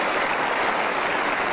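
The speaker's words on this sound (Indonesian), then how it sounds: "Boleh tepuk tangan untuk periode kedua." An audience claps together in a dense, steady wash of applause, loud and continuous for the whole moment, with no voices over it.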